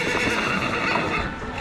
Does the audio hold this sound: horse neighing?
yes